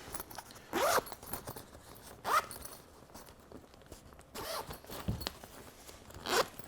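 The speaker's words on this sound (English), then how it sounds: "So we're just gonna go ahead and open up the zipper." A zipper on a lighting gear bag is pulled open in several short, quiet rasping strokes, separated by pauses and small handling rustles, close to the listener.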